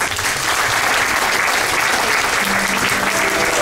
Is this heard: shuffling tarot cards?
no